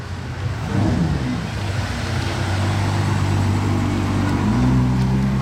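A sports car engine drones close by on a road in Juan-les-Pins, a steady low rumble whose pitch climbs slightly as it revs.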